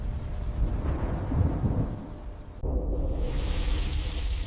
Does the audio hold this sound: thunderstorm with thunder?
yes